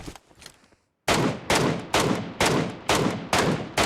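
Rapid bursts of MK rifle fire in a video game, about seven loud, close shots spaced roughly half a second apart after a brief quieter stretch, with no talking.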